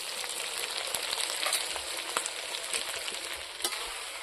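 Close, steady sizzling of chicken frying with ginger and garlic paste in a pan, with a few soft clicks and scrapes of stirring.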